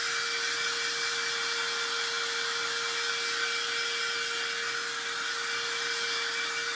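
Steady close blowing from a little craft heat dryer, a loud continuous rushing hiss with a fixed motor whine, running unbroken and alone.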